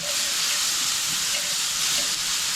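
Peppers with chili seasoning cook down in a hot pan for a breakfast burrito, a loud, even hiss and sizzle throughout with no talking.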